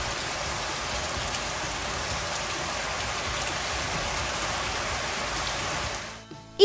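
Steady, dense rain hiss with no voices, holding constant until it cuts off abruptly near the end.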